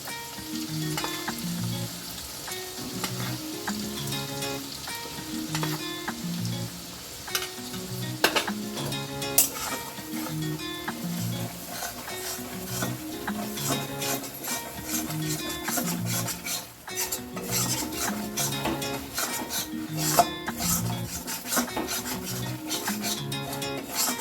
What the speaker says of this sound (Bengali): এটা এরকম নাড়তে থাকবো